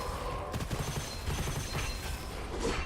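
Video game gunfire, soft rapid shots mixed with mechanical clicks and rattles. The sound is faint and continuous with no clear loud reports, and no one speaks.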